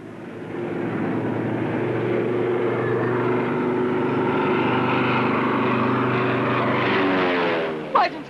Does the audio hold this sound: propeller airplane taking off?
yes